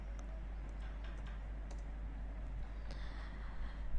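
Faint clicking of keys on a computer keyboard while entering a software command, scattered light taps over a constant low hum and background hiss.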